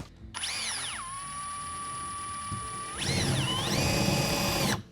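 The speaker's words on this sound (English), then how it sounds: "let's just drill down into this," A Black Zero power drill whines up to speed, holds a steady high pitch, then revs again as the bit bites into plywood with a rougher grinding tone, close by.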